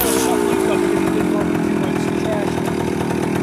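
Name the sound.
Honda Cub and Kawasaki KE100 motorcycles starting up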